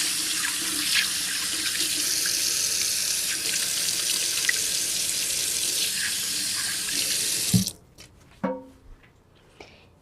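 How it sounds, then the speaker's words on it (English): Hands being washed under a running kitchen sink tap, a loud, steady stream of water that stops abruptly near the end, followed by a few wet splashes and drips. "Again, let me wash my hands."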